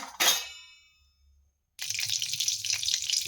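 Mustard seeds and cumin hit a little hot oil in a pan on a gas stove, a sharp hiss followed by silence, then a steady crackling sizzle close by.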